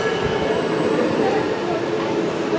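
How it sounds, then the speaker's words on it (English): A train in Stockholm rumbles steadily along the rails, a loud, continuous roar of wheels and carriage noise with a faint high whine running through it. "This is the train."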